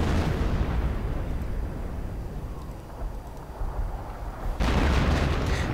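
Rocket fire and explosions in a WWII strategy game, with dense rumbling booms and blasts layered into a continuous loud barrage and a sharper burst near the end.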